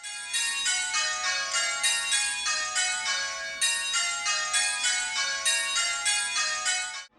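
A set of church bells rings a change-ringing method in repeated rounds, each bell striking in turn in a steady, orderly rhythm, clear and resonant with no voices.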